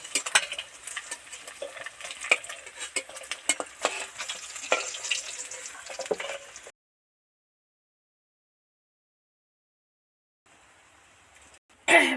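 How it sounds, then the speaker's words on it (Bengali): Fried katla fish pieces are lifted out of hot oil, the oil sizzling and crackling busily while a utensil clinks and scrapes; the sound then cuts to silence before a faint sizzle returns at the end. "ভাজা হয়ে গেছে এবার তেল থেকে উঠিয়ে নিচ্ছি"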